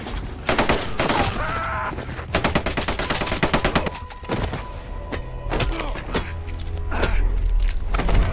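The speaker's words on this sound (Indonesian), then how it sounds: "Mendengar suara tembakan dari belakang, Bruno langsung menuju ke sumber suara." Gunshots in a violent fight, with loud rapid bursts of automatic fire and scattered single shots mixed with heavy thuds, close and intense throughout.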